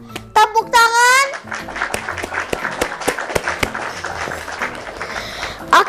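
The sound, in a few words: children clapping hands in class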